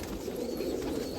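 Several old pigeons cooing in a loft, a continuous low murmur of coos under steady background noise.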